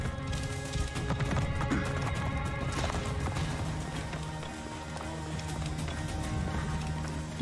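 A horse runs in the video game Assassin's Creed Origins, with clip-clop hoofbeats and rattling movement over a steady game soundscape at moderate loudness.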